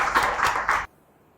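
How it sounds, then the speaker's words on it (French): Brief audience applause welcoming a guest speaker at a marketing masterclass, a short burst of clapping that cuts off sharply after under a second, followed by near silence. "Sous vos applaudissements."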